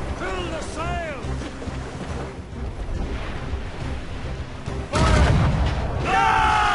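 Naval cannon fire in an Assassin's Creed Rogue sea battle, a heavy boom bursting out near the end over rushing wind and water, with shouting voices earlier.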